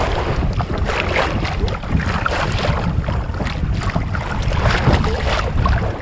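Water slaps and splashes steadily against a small fishing boat, a dense, choppy wash mixed with gusty wind buffeting the microphone, loud and continuous throughout.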